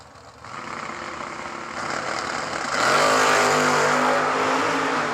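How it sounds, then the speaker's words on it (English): Two classic Chevys, a Malibu and an 86 Camaro, sit roaring at a drag strip starting line, their engines building steadily from a loud idle into a heavy, rising rev as they launch. "A couple classic Chevys on the starting line."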